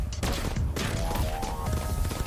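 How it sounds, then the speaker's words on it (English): A blaze cannon fires nonstop in the Starward Rogue video game, a dense, loud barrage of overlapping blasts and crashing impacts with no pause across the whole stretch. "Especially with the blaze cannon going crazy over there."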